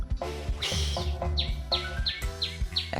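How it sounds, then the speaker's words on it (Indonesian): Chirping birdsong in a quiet hillside spot near Lasem, with repeated sharp tweets and quick rising calls standing out clearly over a low background rumble. "Tuh suara burung loh."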